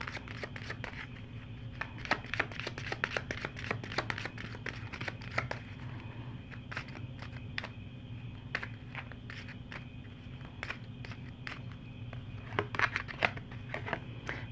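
Kipper fortune-telling cards being shuffled by hand, a steady run of soft, close riffling flicks and slaps repeating throughout over a low background hum.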